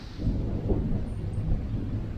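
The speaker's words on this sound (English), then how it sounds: "Lots of thunder." Low, continuous rumble of thunder rolling steadily for a couple of seconds at a lakeside campsite, with a soft hiss of rain underneath.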